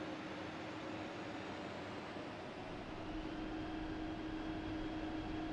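A jet engine in the DCS flight simulator throttles up for taxi, a steady broadband roar with a low hum that rises slightly in pitch and intensity partway through, continuous and with no talk.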